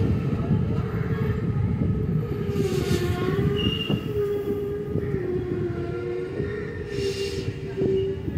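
Train running through Vijayawada junction near the north east cabin, a steady loud rumble of wagons rolling over rails with wheel squeal and brief higher whines throughout, continuous for the whole stretch.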